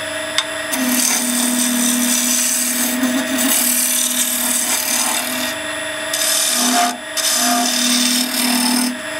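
A wooden dibber spins on a lathe while a chisel cuts it, a sustained humming tone with scraping, rasping texture that briefly drops out and returns several times, close and loud, no voices.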